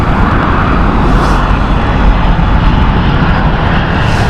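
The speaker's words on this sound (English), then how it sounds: "This is the Newark flight with the 767-300 from United." Loud, close roar of a United Boeing 767-300 jet on the Newark flight at Heathrow Airport, a steady broadband engine rumble sustained throughout with no voices.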